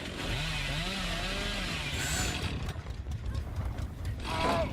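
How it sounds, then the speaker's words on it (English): Chainsaw revving in Dead by Daylight during a competitive league match, a wavering, rising and falling engine whine over a dense, noisy game soundscape, sustained for several seconds with a few sharper bursts near the end. "that's JT revving his chainsaw to make his way back"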